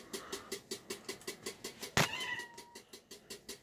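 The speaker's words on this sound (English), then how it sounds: "Hey, there's a kitty cat in here." A cat indoors meows in a quick, repeated rhythm at close range, with one louder, drawn-out cry in the middle of the series.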